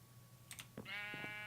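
A sheep bleats in the Minecraft modpack Agrarian Skies, one drawn-out bleat after a few faint clicks, quiet, with keyboard tapping around it.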